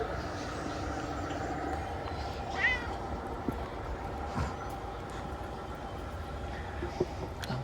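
A pet cat named Ferdinand meows softly a couple of times near the middle, faint against a steady hum of a running G scale model train layout.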